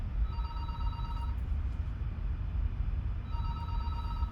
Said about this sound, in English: And why is the phone ringing?